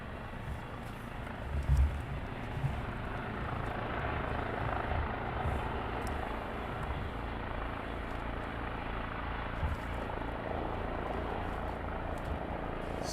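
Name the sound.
training helicopter doing a skid landing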